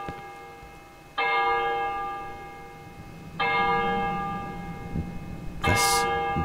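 Church bell in the Cry of Fear video game strikes three times at slow, even intervals, each loud ringing stroke decaying into a long hum, with a brief rustling clatter near the end.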